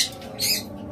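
Pet birds in a crowded bird shop give a brief, close burst of high, harsh squawks and chirps lasting about a second, with no talk.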